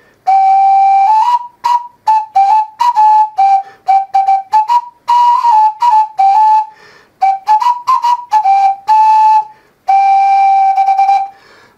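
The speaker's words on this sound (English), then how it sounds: "how to make a dead simple little carrot flute, carrot whistle, just using a carrot and a knife" A homemade four-holed carrot whistle, cut from a carrot with a knife, plays a bright, shrill run of short notes with gaps, loud and close, then holds longer tones.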